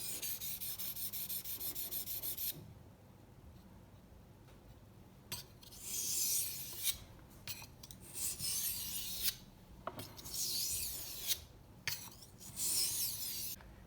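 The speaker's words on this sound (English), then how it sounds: "simply do some gentle strokes on this one" A knife blade is stroked across a soft water stone, with bursts of close, gritty rasping separated by brief pauses, the strokes coming irregularly and growing more frequent toward the end.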